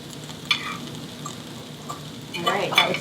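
Rice stirred and frying with green onions in a pan for pilaf, giving a soft steady sizzle with a few light scraping stirs and a louder burst of crackle near the end.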